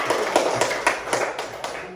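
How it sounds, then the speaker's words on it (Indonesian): Children in a classroom clap in a sparse, uneven patter of separate claps, a short and moderately loud burst. "Oke, tepuk tangan."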